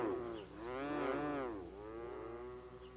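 A single long, loud cow moo rises and falls over about two seconds, then trails into a quieter lowing; no talking.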